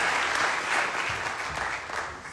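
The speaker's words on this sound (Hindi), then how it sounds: "जोरदार तालियां।" Brief burst of enthusiastic applause from a crowd at a live motivational event, steady clapping throughout with no talking.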